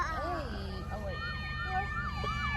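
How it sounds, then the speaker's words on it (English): An ambulance siren sweeps up and down repeatedly as it approaches in traffic, heard from inside a car, with a rumbling engine underneath and a voice speaking briefly at the start. "There is an ambulance coming."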